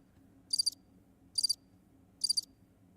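Crickets chirp in three evenly spaced short bursts of rapid high trills over a faint low background hum, with no voices.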